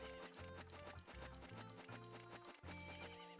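Horse from the video game Zelda: Majora's Mask, with steady clip-clop hoofbeats and a whinny over looping game music, fairly faint in the mix.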